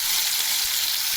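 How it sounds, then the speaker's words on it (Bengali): Eggplant and potato pieces sizzle steadily in hot oil, a dense, even crackle that holds at close range for the whole moment with no voices. "ভাজা হচ্ছে"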